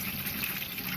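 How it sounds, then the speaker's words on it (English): Water runs out of a sprinkler system's vacuum breaker in a steady, close rushing stream. "So this is all the water from the vacuum breaker"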